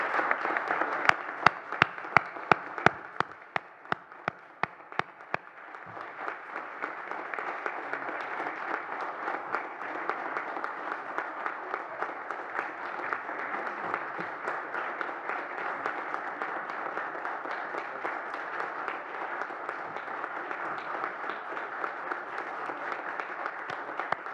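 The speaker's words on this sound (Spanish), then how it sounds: "Así que les pido ese fuerte aplauso a esos colegas." An audience at a presentation of a model law protecting journalists applauds murdered journalist colleagues, starting with a few sharp separate claps that swell into long, even, sustained applause from a large crowd.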